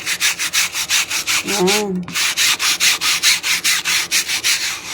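A surface is scrubbed with foam cleaner in quick, rhythmic back-and-forth strokes, loud and close. The scrubbing pauses briefly while a voice speaks a short word, then resumes.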